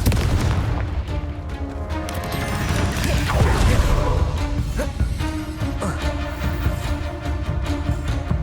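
Fiery Confringo blast spells from the Hogwarts Legacy video game, a dense barrage of booming explosions and crackling impacts layered over a continuous loud battle din, with a voice briefly present.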